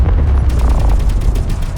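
Heavy automatic assault cannon fire in the Space Engineers game, a dense continuous barrage of booming shots with deep rumbling low end and repeated sharp bursts, loud and close throughout.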